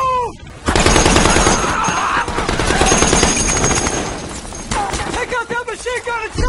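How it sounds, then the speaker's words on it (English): A machine gun fires a long continuous burst that starts loud and close, rattling for several seconds before breaking into shorter stuttering bursts, with a voice shouting briefly over it. "Take out that machine gun and set up position!"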